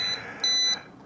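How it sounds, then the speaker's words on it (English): Ruko F11PRO 2 drone controller emitting short electronic beeps: a brief high tone followed by a longer steady beep, clear and close, with no voices. "Oh, the beeping is a lot less annoying."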